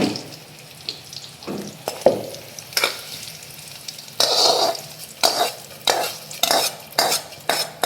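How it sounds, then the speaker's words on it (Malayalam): A spoon repeatedly scrapes and stirs through a sizzling pot of curry with a generous handful of curry leaves, producing a rhythmic series of clattering stirs over a soft background sizzle, with no talking. "കുറച്ചധികം കറിവേപ്പിലയും കൂടി ഇട്ട് കൊടുക്കുന്നുണ്ട്"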